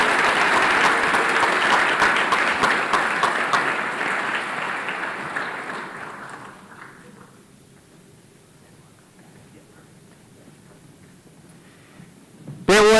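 Audience applause at a high school academic awards ceremony honoring National Merit Commended students, loud and sustained for about six seconds before fading to a quiet room, with a brief sharp noise at the very end.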